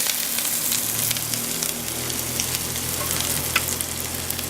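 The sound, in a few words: chickpea falafel frying in oil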